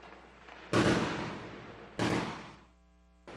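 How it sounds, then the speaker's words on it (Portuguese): Gunfire exchanged between criminals and police, recorded by a resident: two loud, sharp reports about a second apart, each with a long echoing decay, then a third shot starting at the end, heard from nearby. "Houve troca de tiros com a polícia. Moradores gravaram o confronto."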